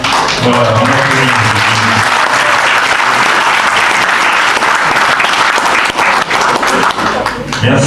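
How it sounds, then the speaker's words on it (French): Crowd at an auto-cross club's annual general meeting in Badefols-d'Ans applauds loudly and continuously, with a voice speaking over the clapping at the start. "Voilà, on applaudit."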